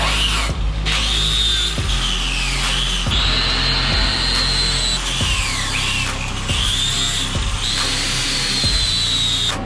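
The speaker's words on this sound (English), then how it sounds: "get a wire wheel on an angle grinder in shorts" A wire wheel spins on an angle grinder in a loud, steady whine, with repeated bursts and sharp dips as the brush bites and lifts off the metal, heard alone and close throughout.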